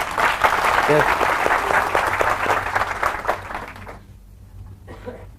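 Audience clapping at a sales training seminar, a loud, dense burst of many hands that stops abruptly near the end, followed by brief quiet and a few words spoken.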